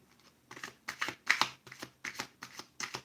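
A deck of tarot reading cards being shuffled, seven or eight quick soft riffling bursts in a steady rhythm, close and quiet, with no voices.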